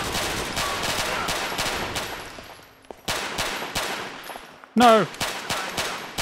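Rapid automatic gunfire in the video game GTA IV rattles in long sustained bursts, pauses briefly, then resumes, with a player shouting over it.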